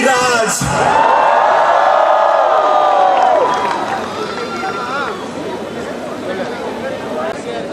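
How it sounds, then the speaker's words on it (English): A crowd at a cricket event cheers and whoops loudly as a former cricketer is introduced, a big swelling roar with high shouted calls that fades into lower, sustained crowd noise and chatter. "So ladies and gentlemen, with a huge round of applause, Mithali Raj!"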